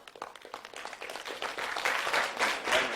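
Audience clapping at a county board of supervisors meeting: scattered claps building into fuller applause from a moderate crowd, heard at a slight distance and growing louder toward the end.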